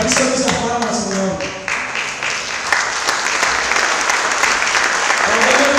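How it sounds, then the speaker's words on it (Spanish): Congregation applauding during a church service, loud dense clapping that starts with a few distinct claps and swells into sustained, steady applause filling the room. "Para ti son esas palmas, Señor."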